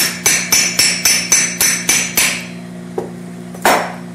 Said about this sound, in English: Works better with a lighter hammer.